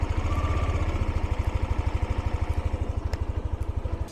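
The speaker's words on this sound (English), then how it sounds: "The engine start noise." A 2023 Yamaha Aerox 155 maxi-scooter's engine starts and settles into a smooth, even idle, its low rapid thrum steady and close for a few seconds with no talking.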